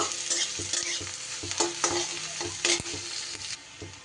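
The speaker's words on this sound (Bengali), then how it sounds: "পেঁয়াজটা একটু নাড়াচাড়া করে নেব" Onions stirred and fried in a pan for a potato and yardlong bean bhaji, with close scraping clatter of the spatula over a steady sizzle, no voices.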